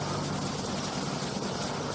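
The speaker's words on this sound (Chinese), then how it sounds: "中部港湾有直升机演练油弹补给" A military helicopter at a central harbour during a refuelling and rearming drill, a dense, loud rotor and engine roar that holds steady and close for the whole moment.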